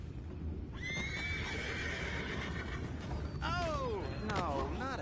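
Horses whinny in a Red Dead Redemption 2 game scene, with a long clear neigh near the start and more whinnies toward the end over a dense, rumbling background.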